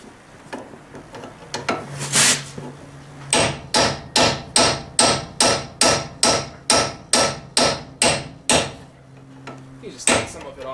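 Steady series of about a dozen loud, evenly spaced hammer blows driving out a ball joint on a Chevrolet Tahoe/GMC Yukon upper control arm, metal-on-metal and close by, with a few scattered knocks before and after.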